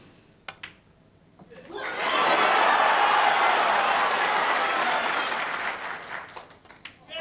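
Snooker crowd breaking into loud sustained applause for Ronnie O'Sullivan's maximum 147 break, clapping swelling quickly after a few sharp claps, holding for several seconds, then slowly thinning out.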